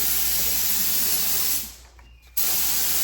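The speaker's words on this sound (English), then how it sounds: "Davey's getting ready to start spraying the white." White paint sprayed onto a 1966 truck's grill, a loud continuous hiss that cuts out briefly into near silence and then bursts back on.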